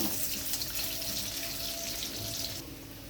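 Cut potatoes fry lightly in hot oil, giving a steady, dense hiss like running water that eases slightly near the end, with no voices.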